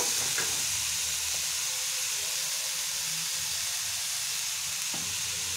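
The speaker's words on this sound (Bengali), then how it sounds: "কড়াইয়ের মধ্যে ঘি দিয়ে আলু আর বিনসগুলোকে একটু নাড়ানাড়ি করে নেব।" Potatoes and beans fry in hot ghee in a kadai, giving a steady close sizzle and hiss with faint scrapes of stirring throughout.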